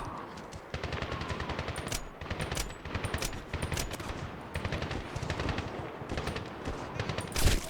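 Rapid automatic gunfire in the video game Medal of Honor (2010) comes as dense, loud bursts of shots in close succession with brief gaps, ending in a heavier blast.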